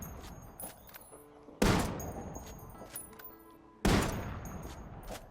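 Two loud sniper rifle shots from an SR-1 Chameleon in the game Ghost Recon Wildlands, about two seconds apart, each a sharp crack followed by a long rolling echo that decays slowly.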